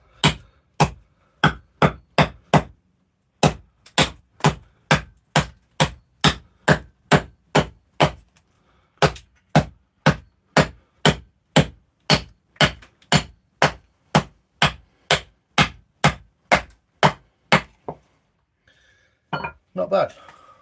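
An axe strikes wood again and again while a bowl is carved, giving sharp, loud, evenly spaced chops of about two per second. A brief pause breaks the run, and the chopping falls away near the end.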